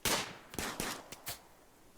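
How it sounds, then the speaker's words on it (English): Several bursts of video game gunfire in RimWorld, with a loud volley at the start, a few sharp separate shots in the middle, and another burst at the end, with no talking. "he's going to be met with gunfire"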